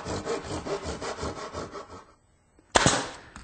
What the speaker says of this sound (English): Now here I have the two side pieces for the waist clamped together, and I'm making a small notch at the top